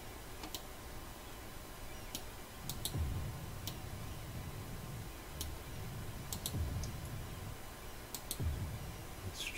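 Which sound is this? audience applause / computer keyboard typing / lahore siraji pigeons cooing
computer keyboard typing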